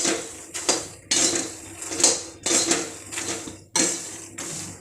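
Turmeric-coated makhana (fox nuts) being stirred in a pan, with repeated scraping and rattling strokes of a spoon against metal in an uneven rhythm, close and fairly loud.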